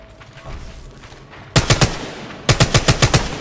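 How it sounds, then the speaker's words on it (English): Automatic gunfire from the battle royale game Apex Legends Mobile, heard in two loud close bursts: a short three-round volley, then a longer rapid string of about six shots. "They're shooting at me!"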